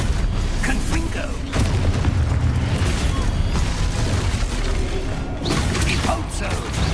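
A Confringo fire spell blast in Hogwarts Legacy sounds as a loud, rumbling burst with mechanical crackle that fills the whole span, and a shouting voice is mixed in over it.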